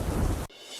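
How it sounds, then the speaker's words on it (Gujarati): Heavy rain with thunder in Banaskantha, a dense roar of downpour and rumble filling most of the moment before cutting off abruptly into near silence. "ગાજવીજ સાથે વરસાદ પડતા વિઝિબિલિટીમાં પણ ઘટાડો થયો હતો"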